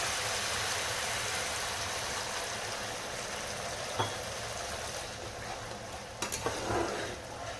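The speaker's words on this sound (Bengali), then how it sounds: "এবার এর মধ্যে একটু জল দিয়ে দেবো।" A pot of Bengali katla fish curry sizzles and bubbles steadily after a little water is added, a close, continuous frying hiss with a couple of faint clinks near the end and no talking.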